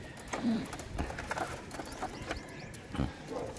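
Racing pigeons cooing, with several soft low coos spread through the clip against a busy, noisy background.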